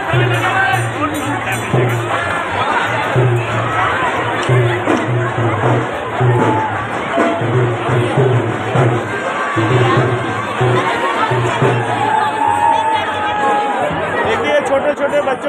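A large, dense festival crowd fills the Gangaur fair in Mewar with constant loud chatter and babble, and faint cheers and children's voices rise now and then over a steady rumbling drone.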